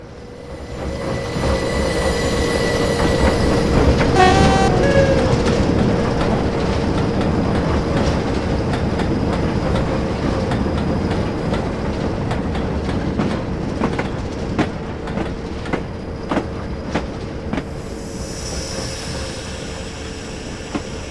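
A Class 07 diesel shunting locomotive in Train Simulator Classic, Skyhook add-on, drones with a steady engine hum. A brief wheel squeal comes early, then evenly spaced rail clicks over the constant rumble.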